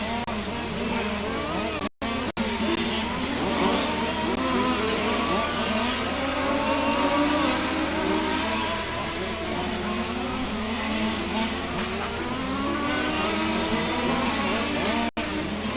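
Race cars lapping the Warm Springs circuit during a series race, engines droning and revving steadily for the whole stretch, with overlapping pitch sweeps as cars accelerate and pass.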